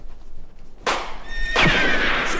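A horse gives a loud, close whinny that rises and then falls, starting suddenly after a moment of quiet during a Western drama scene.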